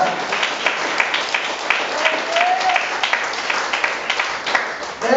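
A church congregation claps steadily in a dense, continuous round of applause lasting several seconds, with a voice faintly audible underneath.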